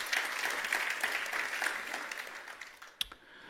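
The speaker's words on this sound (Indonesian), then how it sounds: "Kita beri tepuk tangan untuk kebenaran ini." An audience in a church gives a round of applause, a soft, even patter of many hands heard from some distance. A single sharp knock sounds near the end as the clapping dies away.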